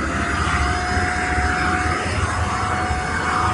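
A Shimono PRO-Cyclone Rocket vacuum cleaner running at full suction, heard as a loud, steady whining roar with a constant high tone and no pauses.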